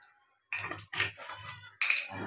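Mung and masoor dal for khichdi being rinsed by hand in a pot of water, with three close bursts of swishing, sloshing water separated by short pauses.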